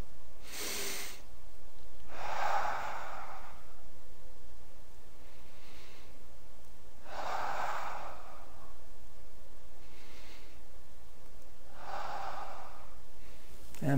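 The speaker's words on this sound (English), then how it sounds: "Let's take 3 more breaths." Slow breaths drawn in and out while balancing in yoga tree pose, three unhurried cycles of airy inhale and louder, rushing exhale spaced about five seconds apart, close and alone without talk.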